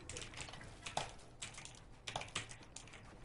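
Typing on a computer keyboard, a quiet, steady patter of key clicks with a few louder strikes, close up and otherwise alone.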